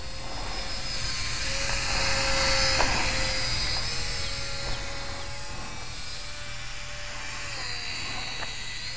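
Fly Zone Fokker Triplane RC park flyer in flight outdoors, its small electric motor giving a steady high whine. The whine rises and falls in pitch as the plane passes, with no talk over it.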